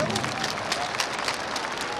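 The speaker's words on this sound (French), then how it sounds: "Je vous demande de l'applaudir" An audience at a peace and social cohesion prayer ceremony in Bobo applauds, a moderately distant, even clatter of many hands with some crowd murmur mixed in.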